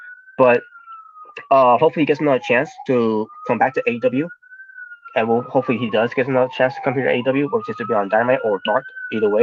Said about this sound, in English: I apologize for the noise background of the sirens.